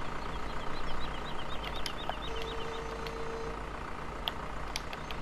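A modest tractor hitched to a low loader carrying a big baler in a farming simulator mod, its engine idling steadily and low under a faint high whine, with a few brief clicks and a short tone.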